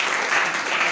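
A church congregation claps in a loud, dense burst of applause that fills the short moment without a break.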